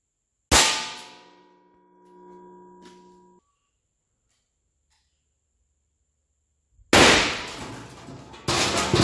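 Two sharp .22 LR CCI Stinger rifle shots fired at steel plates, each a loud, close crack with a brief ringing tail, separated by several seconds of near silence.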